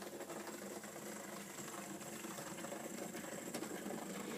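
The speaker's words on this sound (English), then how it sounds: "That buzzing noise is the point motors working." Point motors on a model railway layout buzz with a faint, continuous mechanical whirr, steady and low in level, with no voices over it.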